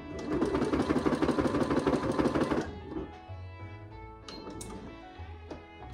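A sewing machine run by a foot pedal whirs loud and fast in a steady burst for under three seconds, then stops, leaving softer mechanical clicks and taps.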